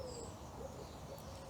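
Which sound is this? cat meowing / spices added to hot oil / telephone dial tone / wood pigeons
wood pigeons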